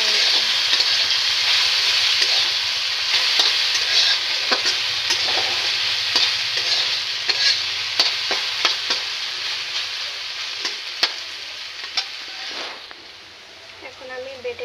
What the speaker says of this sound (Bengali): খুব সুন্দরভাবে ভাজা হয়েছে।